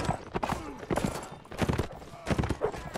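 Horse hoofbeats from the video game Mount and Blade Warband, rhythmic thuds over a busy battle mix, with a voice talking throughout.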